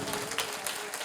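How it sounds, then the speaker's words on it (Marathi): Audience at a Marathi kirtan clapping loudly on cue, a brief dense burst of hand claps close by. "एकदा जोरात टाळ्या होऊ द्या"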